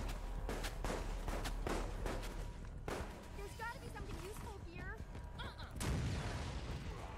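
Rockets and flashbangs explode in the Resident Evil Resistance video game, sounding as several heavy booming blasts spread across the clip amid constant game noise, with voices chattering underneath.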